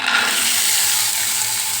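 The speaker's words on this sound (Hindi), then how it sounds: "बस इनको नमक मिर्च के साथ में ऐसे हल्का सा फ्राई कर दूँगी ढक के" Steady, close sizzling of vegetables lightly frying in a pan with salt and chili, a continuous hiss with faint stirring underneath, no talking.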